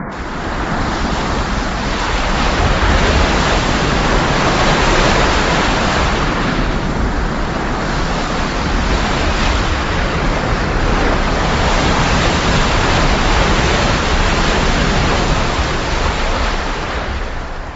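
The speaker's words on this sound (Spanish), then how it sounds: "Moisés tenía una vara y por orden de Dios la extendió sobre el Mar Rojo." Roaring sound effect of the Red Sea waters parting, a loud, dense, continuous rush of surging water and wind that swells gently in waves and holds steady without speech.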